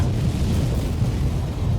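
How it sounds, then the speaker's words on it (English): A sustained deep roar of a dynamite explosion in the video game Black Mirror 2 rumbles steadily throughout, dense and loud with heavy low-end booming. "Everything's ready for the explosion."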